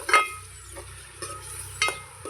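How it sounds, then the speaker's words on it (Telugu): Onion paste fries for a fish curry, cooked over a wood-fired stove. A soft, low sizzle sits under three or four distinct scraping strokes of a spoon stirring the pan, with no voices. "చక్కగా ఇదంతా బ్రౌన్ కలర్ వచ్చే వరకు వేయించుకోవాలి"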